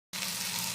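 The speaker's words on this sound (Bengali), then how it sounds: "ডিমে জল দিয়ে" Water pours steadily into a pot of egg and potato curry, a continuous gushing splash that starts abruptly after a brief silence and stays even and close.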